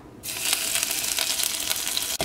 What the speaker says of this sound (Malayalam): ഓയിൽ നന്നായിട്ട് ചൂടായിട്ടുണ്ട്. ഇനി ഇതിലേക്ക് വെളുത്തുള്ളിയും പച്ചമുളകും ചേർക്കുക.